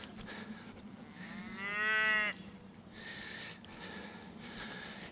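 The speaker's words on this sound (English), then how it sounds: "Tiddler's up and mooing." A young bull calf in a barn lets out one drawn-out moo of under a second, close and clear, followed by softer snorting breaths.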